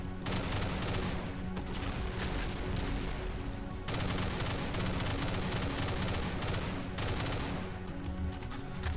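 Rapid, continuous gunfire in Doom 2 modded with Project Brutality, loud dense bursts of shots with brief pauses between volleys, no talking.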